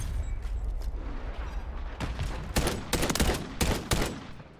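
Bursts of gunfire in Modern Warfare 3, with rapid overlapping cracks clustering toward the end after a stretch of lower rumbling background, loud and close, heard with no talk.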